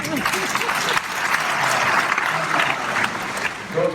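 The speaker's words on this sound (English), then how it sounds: "Don't clap at my failures." A large audience claps steadily through the whole stretch, a dense, loud wash of applause at a spiritual talk, with a brief voice breaking through near the start.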